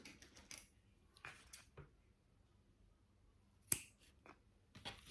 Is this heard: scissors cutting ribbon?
yes